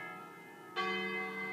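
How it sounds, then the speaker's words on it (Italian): A church bell strikes once partway through, its tone blooming loud over the lingering hum of earlier peals and ringing on steadily to the end, with no talk. "intanto le campane vanno avanti."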